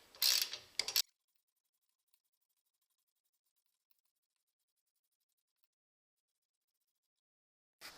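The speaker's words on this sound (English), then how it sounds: "and now it's got to tighten up the bolt" An 11/16 wrench tightens a bolt on a Harbor Freight generator wheel kit axle, giving a short burst of close ratcheting clicks, then near silence before another brief click at the end.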